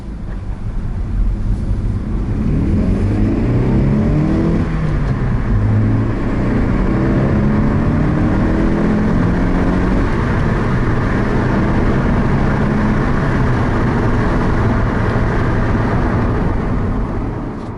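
A Honda CR-Z hatchback revs hard and climbs through its gears, the engine note rising in repeated sweeps with brief dips at each shift, steady and fairly loud with some wind rush.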